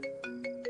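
Mobile phone ringtone chirping in a short repeating electronic pattern, four quick tonal pulses close and clear with no talk over it.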